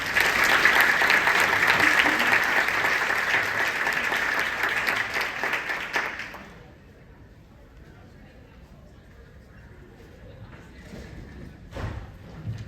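Loud, sustained audience applause welcomes a keynote speaker to the stage, a dense clapping wash that runs about six seconds before fading out to quiet room tone with a faint thump near the end.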